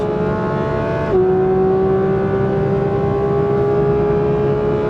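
A Porsche 992.2 GT3 engine revs and holds a loud, steady drone with a shift in pitch near the start, close and continuous.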